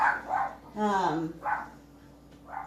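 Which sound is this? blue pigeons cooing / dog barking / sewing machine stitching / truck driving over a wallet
dog barking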